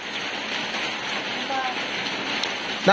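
Steady rain falls as a dense, even hiss across the whole stretch, with a brief sharper sound near the end.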